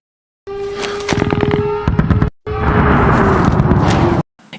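Sharp popping bursts of gunfire crackle in rapid clusters, loud and close rather than distant, in two bursts separated by a short gap, with no voices.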